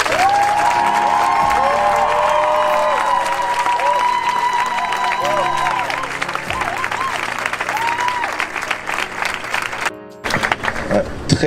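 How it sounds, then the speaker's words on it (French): Loud crowd cheering and clapping over music at an outdoor evangelistic gathering at the Trocadéro in Paris, with a singer's voice drifting through before a brief drop and a burst of renewed noise near the end. "Est-ce que quelqu'un peut élever une acclamation vers Jésus?"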